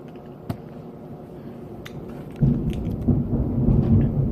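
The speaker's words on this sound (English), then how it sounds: "I'm afraid of thunder" Thunder during a storm: a low rumble swells up and rolls on for the rest of the moment, heavy and somewhat distant, with a few sharp ticks and creaks before it and no talking.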